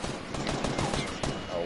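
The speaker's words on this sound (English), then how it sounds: "He's shooting, he's aiming at us." Rapid bursts of automatic gunfire from Fortnite crackle in quick succession, loud and dense, layered over game ambience for under two seconds.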